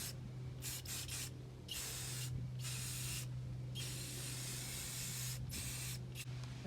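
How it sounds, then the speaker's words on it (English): An aerosol can sprays onto a model tree in several hissing bursts of varying length with short pauses between them, close and fairly quiet, over a low steady hum. "It's going to require a lot of this spray."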